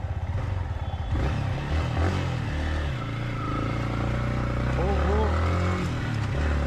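A Yamaha MT15 motorcycle rides along with a steady low engine drone close to the mic, a brief rev and throttle shifts, while a rider speaks briefly over it.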